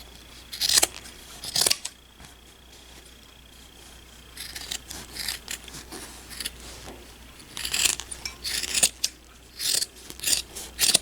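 Scissors snipping fabric around a stitched in-the-hoop tooth fairy pillow, a quiet series of sharp, uneven crisp cuts in clusters separated by pauses, close by with no talk.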